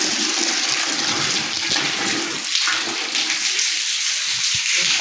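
Heavy rain and rushing runoff during a cyclone storm make a dense, continuous roaring wash of water close by, steady and unbroken throughout.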